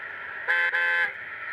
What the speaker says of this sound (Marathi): ट्रॅफिक लागली आहे. असं वाटतं की पुण्याचा रस्ता आहे.